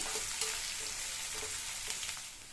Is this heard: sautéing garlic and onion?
yes